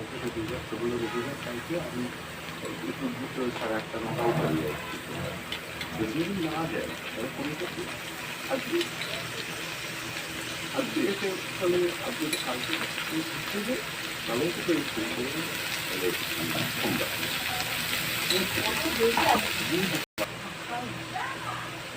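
Cut eggplant dropped into a pan of frying onions, a steady low sizzling hiss that keeps going under a voice talking over the cooking.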